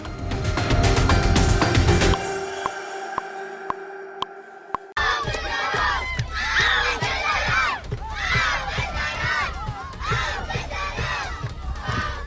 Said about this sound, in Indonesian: Anak-anak Palestina terlihat berteriak di samping pagar kawat berduri